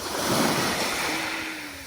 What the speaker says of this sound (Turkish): Çok güzel arkadaşlar deniz.